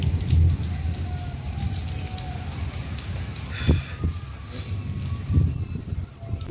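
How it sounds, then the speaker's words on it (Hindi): Steady light rain, easing off after a heavy downpour, patters on surfaces with a soft hiss, a few louder drips and thumps standing out now and then. "कुछ हल्की हो गई है यार बारिश"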